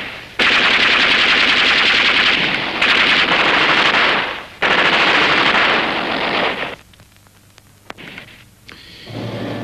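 Sustained bursts of machine gun fire in a wartime massacre scene at a crossroads, loud, rapid and continuous for several seconds with brief gaps, then giving way to scattered sharper shots and quieter sounds.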